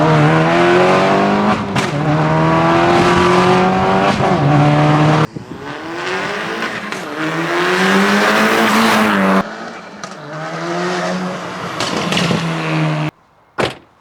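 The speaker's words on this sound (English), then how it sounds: "got all the lovely crackle and pops at the back" Mercedes GT63s engine revving hard in several cut-together passes, loud and close, its rising and falling tone broken by sharp exhaust crackles and pops between runs.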